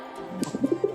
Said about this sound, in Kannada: ಪಾರಿವಾಳ